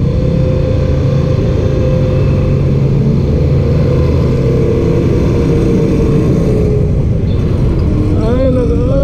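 A runaway diesel engine revs hard and continuously on a city boulevard, a loud sustained roar with a rising whine near the end, while people shout over it.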